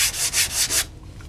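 Bondo body filler hand sanded with a homemade sanding tool during a motorcycle restoration: four quick, close, rasping back-and-forth strokes in a steady rhythm, then quiet.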